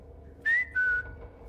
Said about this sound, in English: I heard what sounded like someone whistling. Just like that.